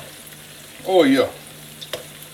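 Bacon frying in a pan gives a faint, steady sizzle close by, while a voice speaks briefly over it.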